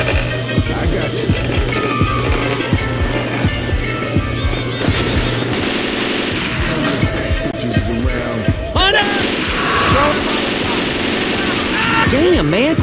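Rapid bursts of gunfire and weapon blasts fill a frantic fight in the game Dark Carnival, dense and loud throughout, with players shouting over the shooting.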